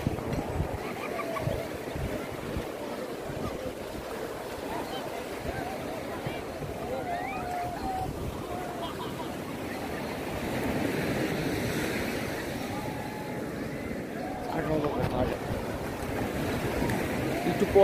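Sea waves and steady wind on Cox's Bazar beach, a continuous broad wash of surf with wind rumble buffeting the microphone, swelling louder near the end, with a person talking over it.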